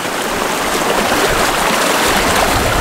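Creek at a ranch ruins site rushing loudly and steadily nearby, a dense broadband wash of flowing water with no pauses or talking.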